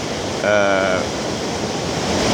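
Steady rushing of a stream flowing into a river at their meeting point, a broad even roar close by, with a brief murmur of a voice early on.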